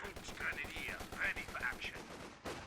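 Bren machine gun fire in Company of Heroes 2 rattles in rapid bursts of repeated shots, mid-distance, mixed with other battle noise and a brief sharp crack near the end.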